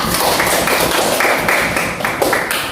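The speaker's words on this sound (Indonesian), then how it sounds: "Tepuk tangan dulu untuk Vera" Classmates applaud a student named Vera in a classroom, with a dense, steady clatter of many hands clapping close by for nearly three seconds.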